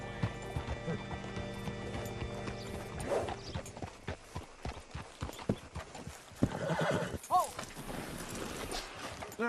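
Clip-clopping horse hooves with a loud neigh and whinny in the Red Dead Redemption 2 video game, irregular hoof strikes close by and some creaking mechanical sounds in between.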